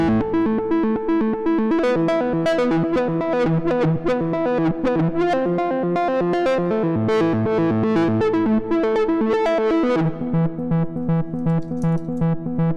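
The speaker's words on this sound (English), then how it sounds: "Let's do a reverb." A synthesizer in Renoise plays a rhythmic chord and melody pattern with a washy, lingering reverb tail that blurs the notes together.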